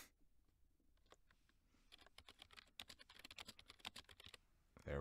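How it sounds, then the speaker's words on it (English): Fingers type on a computer keyboard close by, with quiet, quick clicking that starts sparse and then speeds into a dense, steady burst of keystrokes. A louder thump sounds at the end. "type in a title"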